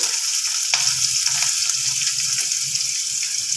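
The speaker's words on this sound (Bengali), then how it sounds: "দু তিন মিনিট আলুটাকে একটু ভাজা ভাজা করে তারপরে সব সবজি দেবো" Potatoes frying in oil with nigella seeds and green chillies, a close, steady sizzle with light stirring scrapes and soft pops.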